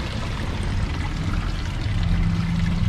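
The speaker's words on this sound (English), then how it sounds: "Most of the springs kind of bubble up out from under the ground, under the bathhouses" Hot spring water bubbles and gurgles up from the ground at Hot Springs National Park, a steady, loud, close rushing flow without pause.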